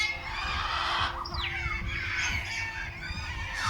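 Cockatoos at a bird sanctuary, harsh, loud squawks and screeches close by, overlapping in a raucous chorus over a steady background hum.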